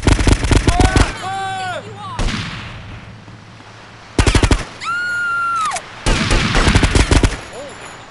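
Gunfire in Grand Theft Auto: Liberty City Stories: loud bursts of rapid automatic shots in several volleys, broken up by gaps and by whistling, warbling tones from the game between bursts.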